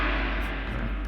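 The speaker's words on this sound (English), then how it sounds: "And tam-tam, choose tam-tam. It sounds like this, the Chinese thing." A tam-tam sample from the VSL orchestral library, a single sustained metallic wash with deep low rumble and shimmering upper tone, heard briefly and alone.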